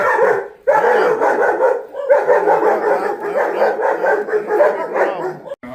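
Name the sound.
puppies barking at the vet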